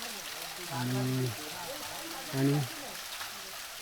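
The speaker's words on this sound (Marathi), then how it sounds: "हा ना एक छोटासा झरा टाईप आहे, झरा टाईप म्हणजे वॉटरफॉल टाईप आहे" A small mountain stream or waterfall flows steadily nearby, a broad wash of water noise, while people talk briefly over it.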